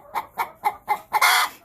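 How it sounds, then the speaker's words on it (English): Three laying hens in a lit coop give a close series of five evenly spaced clucks, then break into a louder, drawn-out squawk at the end. "So I have 3 hens in here laying their eggs"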